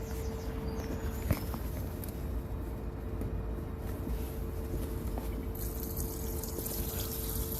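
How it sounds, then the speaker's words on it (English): Waste water drains from the tap of a Swift Kontiki 645 motorhome's wastewater tank as a steady, broadband rush of flowing water, continuous and fairly close for several seconds with a faint hum underneath. "So you're opening that tap to get rid of the waste water."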